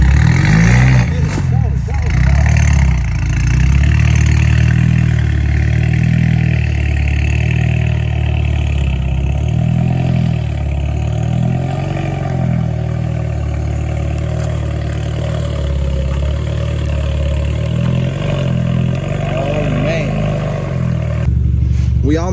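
A rear-wheel-drive BMW F30 stuck in snow revs its engine close by in repeated low surges and throbs. The revs rise and fall in a steady cycle while a voice is faintly present.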